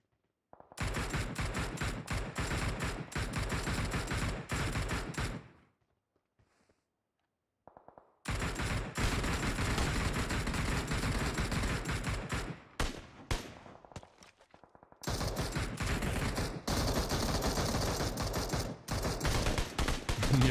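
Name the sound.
gunfire in the video game PUBG Mobile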